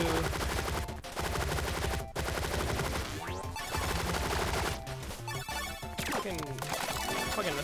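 Rapid automatic assault rifle fire in the top-down shooter Relic Hunters, loud, dense bursts running almost nonstop, layered with sharp crashes and chaotic game effects.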